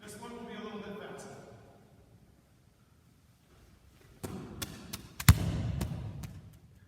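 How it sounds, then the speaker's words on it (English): A released bowling ball drops and bounces on the lane, a few hard thuds and clacks in quick succession followed by a low rolling rumble, after a person speaks. "You probably heard the ball bounce a little bit."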